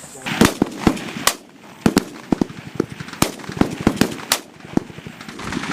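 Sustained rounds of gunfire crack out in irregular bursts of sharp, loud shots, some close together and some spaced apart, during a military squad exercise.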